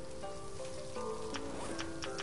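Food sizzling over a campfire in a stranded-island survival video game, a soft crackling patter like light rain under faint tonal game sounds, with brief ticking clicks toward the end.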